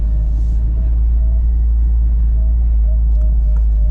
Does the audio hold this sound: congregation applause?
no